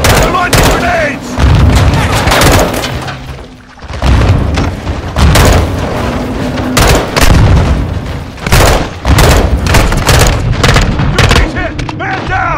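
Grenade explosions and gunfire in the video game Call of Duty Modern Warfare 2: loud, repeated heavy blasts and sharp bursts of shots crowd together in a chaotic battle, with shouting voices mixed in.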